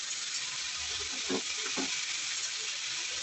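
Vegetables for a vegetable soup sautéing in a kadai: a soft, steady sizzle with two quick scraping stirs partway through, fairly quiet overall.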